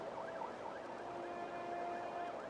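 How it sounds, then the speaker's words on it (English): A wailing siren sweeps up and down in rapid cycles, heard faintly from a distance over a steady low background hum. "We both heard the siren then."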